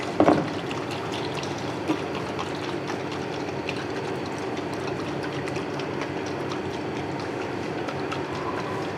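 A closed container holding chicken marinade with soy sauce and lemon juice is shaken steadily, giving a continuous sloshing, rattling rush from near with a sharper jolt at the start.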